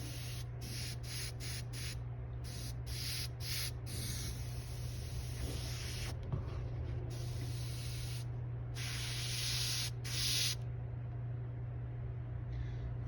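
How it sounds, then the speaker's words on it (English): A Harbor Freight Spectrum Black Widow spray gun sprays in repeated short bursts, sharp hissing blasts starting and stopping irregularly over a constant low mechanical hum, close and clear. "It's atomizing pretty well, like that."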